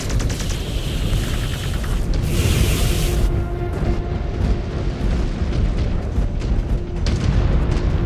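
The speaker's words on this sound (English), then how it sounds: "The cannon impacts are coming through." Heavy booms and rumbling explosions roll through a MechWarrior 5 battle as cannon rounds impact nearby, a continuous low-heavy barrage with a brighter burst midway and scattered sharp cracks, no voices over it.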